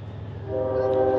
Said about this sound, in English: The train is coming, guys. The train is coming